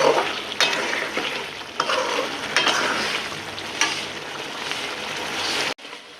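Snakehead fish and spices frying in a pan, a loud continuous sizzle with repeated scraping strokes of a spoon stirring, close up, cutting off abruptly near the end.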